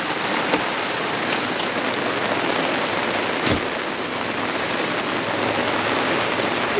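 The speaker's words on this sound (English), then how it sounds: "It is coming down at the moment." Heavy rain pours down outside a caravan at Kenilworth on Queensland's Sunshine Coast, a loud, continuous close wash of water with no voices.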